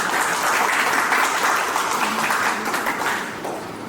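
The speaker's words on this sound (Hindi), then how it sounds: "तो मैं चाहूँगा कि हमारे टीचर्स के लिए भी सब लोग बहुत जोरदार ताली दें।" An audience at a Doctor's Day celebration gives the teachers warm, sustained applause, an even wash of many clapping hands that fades slightly near the end.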